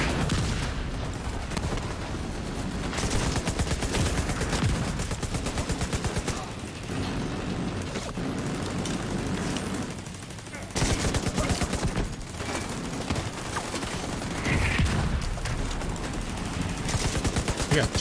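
Sustained turret and automatic gunfire in The Division 2 during a firefight, dense rapid bursts running almost continuously with short pauses, loud and close, with players talking over it.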